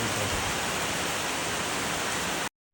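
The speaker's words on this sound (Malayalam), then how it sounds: "നല്ല മഴയാണ് ഗൈസ്. മഴ പ്ലസ് കാറ്റ്." Heavy rain driven by wind, a dense, steady, close roar of broadband noise with no distinct drops, ending abruptly.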